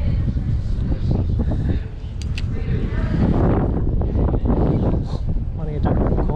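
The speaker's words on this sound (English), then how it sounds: "It's a bit windy for my liking." Strong wind buffets the microphone beside a creek on a fishing trip, a heavy low rumble with gusts throughout, while someone talks over it.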